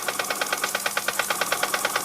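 A Bing model steam engine running on a weak boiler, giving a fast, even chuffing beat that repeats steadily, close and moderately loud.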